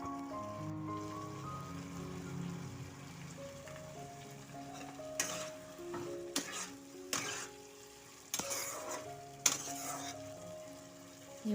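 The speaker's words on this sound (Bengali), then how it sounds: "দিয়ে কষিয়ে নেবো মাশরুমগুলোকে" Mushrooms sautéing with salt in a pan for a mushroom paneer dish sizzle steadily, with several sharp stirring scrapes and clatters and soft music beneath.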